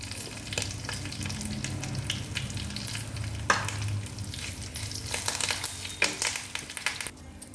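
A tempering of dried red chillies, garlic, cumin, mustard seeds and curry leaves sizzles in a pan for tamarind dal, steady crackling frying with stirring and scraping throughout, no talk.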